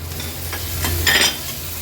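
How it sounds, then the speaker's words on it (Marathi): Chopped tomato sautés with spices in oil for dal dhokli, a close, brief sizzle with a scraping stir swelling in the middle. "तो ॲड केल्यानंतर व्यवस्थित परतून घ्यायचा आहे आणि गॅसची फ्लेम लो करून ह्याला शिजवून घेणार आहोत"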